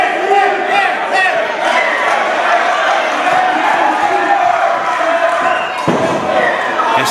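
Loud arena crowd at a live wrestling show, a sustained roar of cheering and shouting with a few thuds and slams cutting through, while a commentator talks over it.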